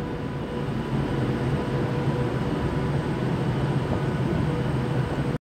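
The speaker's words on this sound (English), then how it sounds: "68001 Evolution, which is actually the diesel version of the Class 88 we saw earlier" Class 68 diesel locomotive 68001 passing through Carlisle gives a steady, loud broadband rumble with a droning engine tone, holding constant for several seconds before cutting off abruptly.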